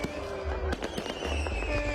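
Fireworks and firecrackers explode in a rapid, irregular series of sharp cracks and pops over a low rumbling boom, fairly distant and continuous.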